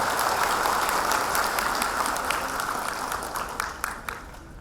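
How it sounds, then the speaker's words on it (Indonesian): Audience applause at a university graduation ceremony in Indonesia, a dense, steady wash of many hands clapping together that gradually thins and fades toward the end, with no talking over it. "Tepuk tangan sekali lagi untuk mereka."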